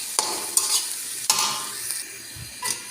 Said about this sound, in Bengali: সবগুলা, ভালোভাবে হোক, নাড়াচাড়া দিয়ে নিতেছি।